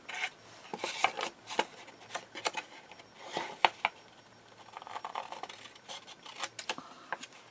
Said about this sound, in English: On the bottom, you're going to cut the score line off.